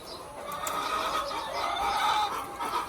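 Rain-soaked chickens in a wet cage cluck and murmur continuously at close range, several birds overlapping over a damp background hiss.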